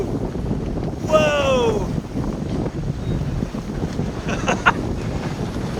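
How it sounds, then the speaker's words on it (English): Wind buffets the microphone aboard a Catalina 28 sailboat while big waves break against the hull, a steady rush with a surge of spray around the middle, under a shouted exclamation and brief talk. "Oh, we got some big waves. Here they come."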